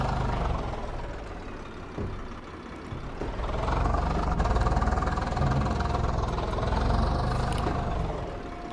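A tractor engine in Farming Simulator 22 idles steadily with a low, rumbling drone, rising slightly in intensity partway through, with no talking.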